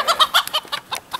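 Backyard chickens at an off-grid homestead coop clucking in quick bursts, several short close calls in an uneven rhythm with no talking.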